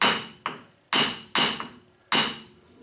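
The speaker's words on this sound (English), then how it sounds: "So I've got a very soft brass hammer here" Several sharp metallic taps from a soft brass hammer seating a bearing seal, struck in an uneven rhythm of five close, fairly loud hits, each ringing briefly before fading.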